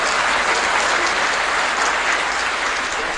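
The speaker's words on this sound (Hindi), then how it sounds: "तो ताली तो बजाओ हाथ उठा के।" A large crowd at a Hindu devotional court gathering on a new-moon day at Pandokhar Dham claps with raised hands, a dense, loud, steady wash of applause lasting throughout with no pauses.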